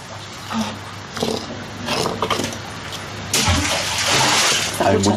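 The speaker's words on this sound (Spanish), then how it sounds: "Una piedra grande y va a escuchar el sonido del agua" A large stone drops into abundant water far below, a short splash and rumble a few seconds in, with faint voices and outdoor background before it.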